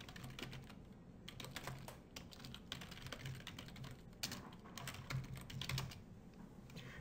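Steady typing on a computer keyboard as a username and password are entered, rapid close key clicks in irregular bursts with brief pauses, no talking.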